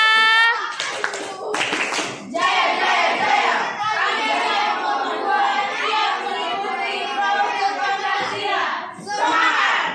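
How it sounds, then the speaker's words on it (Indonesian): Applause from a junior high classroom in Batam, a sustained wash of many hands clapping for several seconds, with children's voices and an adult calling out at the start and near the end. "Oke, tepuk tangan."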